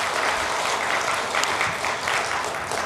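A church congregation applauds the choir after a hymn in a Korean service, a steady, even wash of many hands clapping throughout, moderately loud and unbroken, with no voices standing out.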